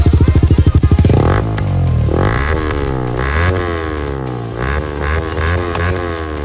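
Yamaha R15 motorcycle revving with the dB killer removed from the exhaust: a rapid loud burbling idle that rises into repeated sharp throttle blips and revs, close and raw, with no voices.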